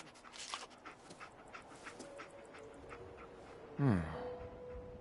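Dogmeat, the dog companion in Fallout 4, pants softly and steadily over low game ambience, with a sharper breathy huff or whimper near the end, close and faint.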